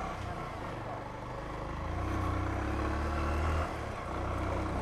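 Motorcycle riding along a road, steady engine drone with mild rises in pitch and wind roar, fairly faint and continuous with no talking.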